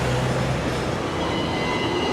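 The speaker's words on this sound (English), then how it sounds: "That's the tram." A Hong Kong double-decker tram rumbles past close by, a steady loud rolling drone of wheels on rails lasting throughout with no talk.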